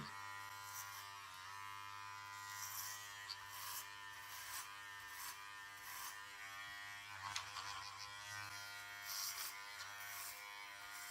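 Electric clippers buzz steadily and close up while shaving a head down to a 1/8 inch buzz cut, a constant mechanical hum with small shifts in tone as the blades pass over the scalp, with no talking.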